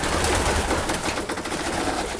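White homer pigeons in their loft during a winter storm give soft cooing calls amid a dense rustling, flapping wash of noise, close and steady with no voices.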